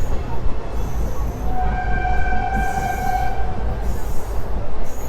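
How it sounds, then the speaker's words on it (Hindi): Trains run at Anand Vihar terminal in Delhi, with a loud rumble of rolling cars, drawn-out metallic wheel squeals, and faint voices in the background. "ना जाने कितनी ट्रेनें चलती हैं यहाँ से"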